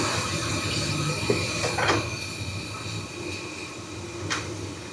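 Water rushes steadily into a toilet as its supply line is turned back on, a constant close hiss and fill noise with a couple of brief knocks partway through.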